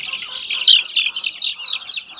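A brood of tiger chicken chicks, about sixteen days old, cheep continuously in high, overlapping peeps, a dense chorus of close chirping with no talk.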